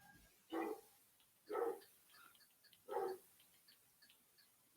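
A dog barks three times indoors, each bark sharp and distinct, with even gaps and no talk, fairly close but not loud.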